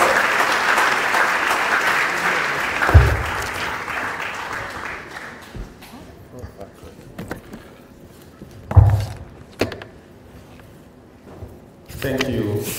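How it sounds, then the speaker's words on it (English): Applause at a college of engineering public lecture fills the first few seconds, then fades away, leaving a quieter room with scattered thumps, shuffles and movement noises before a brief swell of sound at the end. "A hand of applause."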